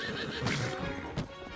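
Horse neighing and whinnying in the Zelda: Tears of the Kingdom video game, with clip-clop hooves mixed into a busy game soundscape; two louder whinny bursts stand out in the short stretch.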